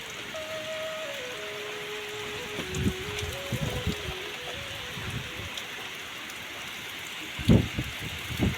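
Heavy rain falls steadily in a monsoon village setting, with strong wind, a soft constant patter that is fairly faint, joined by a low tonal hum and a few brief knocks.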